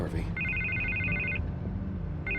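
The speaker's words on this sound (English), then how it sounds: "I can't get the phone to stop ringing." A telephone rings in a Batman Telltale Series game scene, with a steady electronic trill starting a moment in, pausing, then returning near the end, all over continuous talk and background noise.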